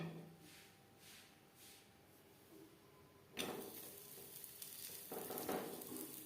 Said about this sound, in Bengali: পরের পরোটা একইভাবে ভেজে নেব।